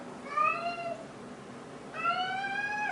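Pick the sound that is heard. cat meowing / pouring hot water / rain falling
cat meowing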